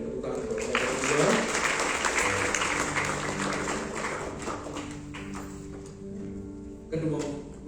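Guests at a church wedding blessing clap in a brief, moderate round of applause that fades under organ or keyboard chords and a voice speaking in the room.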